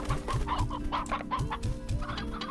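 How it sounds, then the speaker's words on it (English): Chickens in the Slime Rancher video game cluck repeatedly in a quick, bobbing rhythm, several birds overlapping close by over a low game hum. "More chickens."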